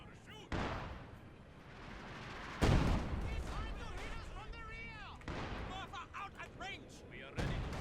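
Artillery strike in a video game battle: several heavy booms land a couple of seconds apart, loud and close, with a commentator talking over the explosions and background gunfire.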